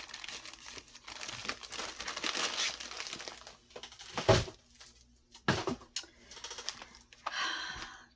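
Small paper library book cards and envelopes from a garage sale and thrift store haul are handled up close, with bursts of crinkling, rustling and brief sharp paper snaps between quieter pauses, no talk.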